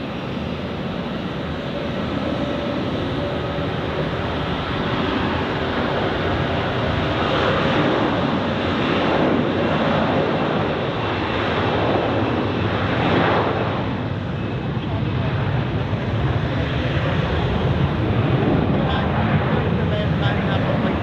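Airbus A321neo airliner at Zurich Airport, a steady broadband engine roar that holds for the full length at high level, swelling slightly in the middle, with a voice talking over it.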